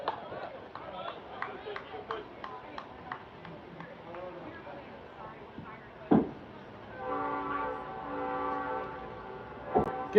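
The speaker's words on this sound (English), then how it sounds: "Getting more train traffic tonight than usual" A train rolls past at a night baseball game, its rumble under a voice, with sustained horn blasts sounding from a distance near the end.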